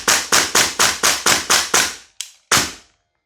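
Double Eagle LUPUS MWS airsoft rifle firing on semi-auto: eight sharp, loud snapping shots in an even rapid rhythm, a short pause, then a faint shot and one final loud crack, with no talk.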